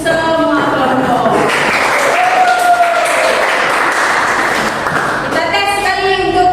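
A classroom of students applauds their groups in a religious education lesson: a few seconds of dense clapping, with voices heard just before and after it.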